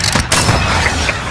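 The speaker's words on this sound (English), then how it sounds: "Missile away" A missile launches in a combat flight video game with a sudden loud, close blast that settles into a dense rushing roar lasting about a second.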